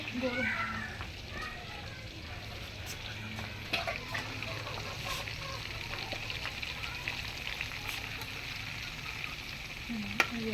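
Mutton pieces fry in a small pot with a continuous soft sizzle and occasional light clinks of stirring, heard under quiet talk nearby.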